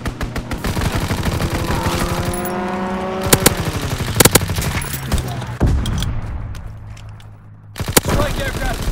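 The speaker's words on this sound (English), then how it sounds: "Pilot inbound, strafing the target." An aircraft strafing run in Call of Duty WWII: dense, rapid machine-gun bursts over a rumbling engine roar for several seconds, followed by a few sharp, loud gunshot cracks and a brief quieter lull.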